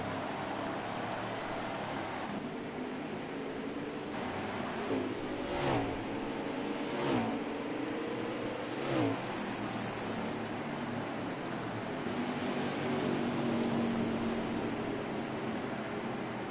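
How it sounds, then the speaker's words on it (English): The number 4 race truck's engine drives out of the pits on a small track. A rough engine drone rises and falls with several passing whooshes, heard faintly and at a distance under broadband noise. "The 4 truck's bringing it out of the pits."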